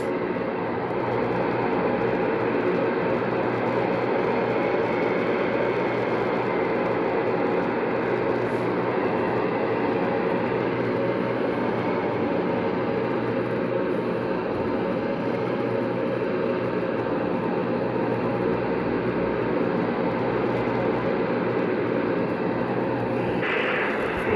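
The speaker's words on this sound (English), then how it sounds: "Please enjoy this moment of me not talking while we taxi and take off." Airliner in a flight game taxiing and taking off, a loud, steady engine roar and rumble that holds throughout without talking.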